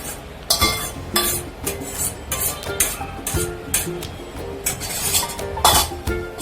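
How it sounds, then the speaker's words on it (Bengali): Boiled chickpea dal is stirred in a wok, a spoon scraping and knocking against the metal in irregular clinks with a soft sizzle underneath, close by and free of speech. "ভালো করে নাড়িয়ে নিতে হবে"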